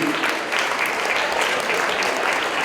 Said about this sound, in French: Je vous demande d'applaudir encore une fois Annalisa Platano.